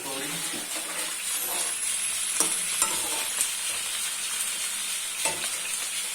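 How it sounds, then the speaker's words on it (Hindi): Onions frying and softening in a pan, a dense steady sizzle with occasional stirring clicks, loud and close, with no voices over it. "ये प्याज साथ साथ सॉफ्ट हो रहे हैं।"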